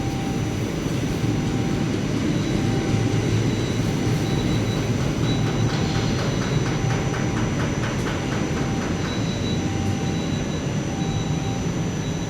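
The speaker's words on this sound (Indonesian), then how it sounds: "Itulah kembali teman-teman itu kereta api" The Gumarang passenger train on an Indonesian railway passes on the way to Bekasi, a loud, continuous rumble and rush of wheels and carriages that stays steady throughout.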